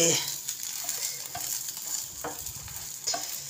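An omelette sizzles steadily in a hot frying pan, with a few soft scraping knocks from a spatula as it is turned over; close and continuous, no one speaking.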